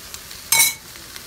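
Okra frying and being stirred in a pan for shrimp Creole gives one short, bright sizzling scrape of about a quarter second, close and fairly loud, over a quiet kitchen background.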